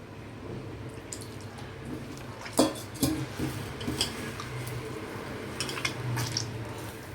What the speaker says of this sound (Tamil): இப்போ இதை நல்லா பிசைஞ்சிக்கலாம்